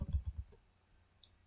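A computer mouse clicking, a quick cluster of soft taps at the start followed by one more isolated click, close and quiet.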